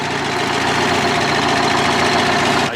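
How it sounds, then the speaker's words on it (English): A 1974 Kenworth prime truck's Detroit Diesel 871 two-stroke engine idles close by, a steady loud throb with a dense even rumble that holds for the whole stretch and briefly dips at the end. "General Motors diesel, however you want to say it."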